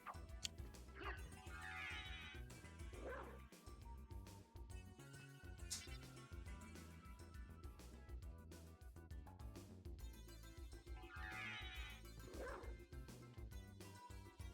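A transformed dog character in Castlevania: Symphony of the Night gives short yips and barks over continuous game music, faint and brief against the soundtrack.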